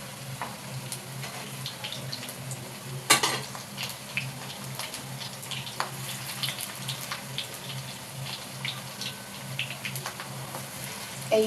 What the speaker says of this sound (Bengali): এই দেখুন পিসগুলো ভাজা হচ্ছে